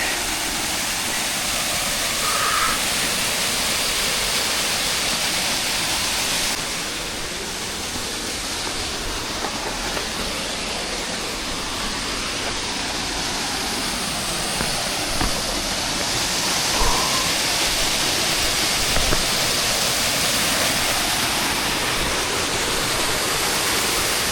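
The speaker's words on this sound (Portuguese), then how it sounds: "Uma das mais preciosas cachoeiras próximas de BH" Cachoeira das Codornas, a waterfall near Belo Horizonte reached via Morro do Gabriel, roars in a dense, continuous rush of falling water close by, steady and loud throughout with no voices.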